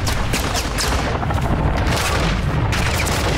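Continuous heavy gunfire and booming blasts fill a Call of Duty Modern Warfare 2 match, loud and dense throughout with overlapping shots and rumbling impacts, no talk.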